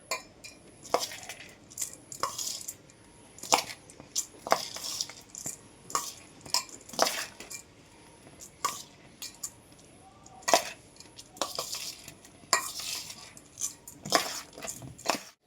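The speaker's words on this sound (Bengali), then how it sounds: "ঘি দিয়ে ভালো করে এটা মিক্স করে নেবো" A spoon clinks and scrapes against a metal bowl while pulao rice is mixed with ghee, irregular bursts of sharp metallic taps and soft squishy shuffles spread over fifteen seconds, close and moderately loud.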